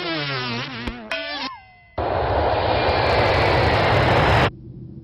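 A steady, broadband roar from an airplane engine before takeoff runs strongly for about two and a half seconds and then cuts off abruptly. Before it come tonal voice-like sounds.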